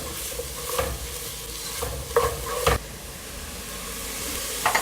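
Canned mushrooms go into a sizzling pan of homemade Indian curry, giving a steady frying hiss broken by a few sharp stirring scrapes and clatters.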